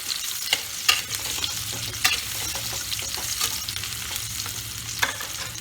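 Pumpkin pieces fry in oil with a continuous hiss while a spatula stirs and knocks against the pan, giving sharp clicks roughly every second; no speech.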